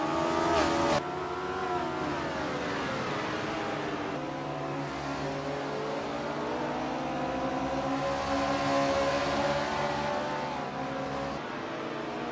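V8 race car engines from 1970 circle an oval at Race City Calgary in a racing video game, a continuous loud droning roar with shifting pitch as cars pass, sustained throughout.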